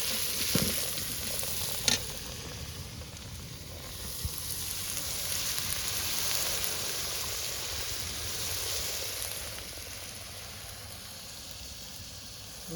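Garlic sizzling in hot oil while mutton cooks in a village kitchen, a steady broad frying hiss with a couple of brief clinks early on.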